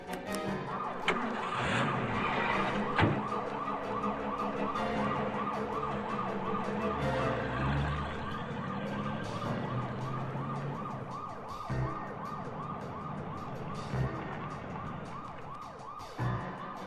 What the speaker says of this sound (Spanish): Enciende la sirena.